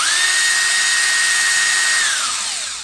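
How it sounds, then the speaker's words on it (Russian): A Tonfon 20V cordless drill-driver sold by Xiaomi spins a drill bit with a steady high motor whine up close, then winds down as the trigger is released near the end. "У него биение при вращении сверла."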